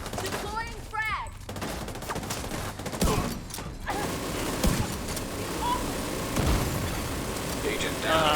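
Frag grenade blast in the Division 2 video game, heard amid a dense mix of gunfire and in-game chatter, with loud low thumps around the middle and later part of the clip.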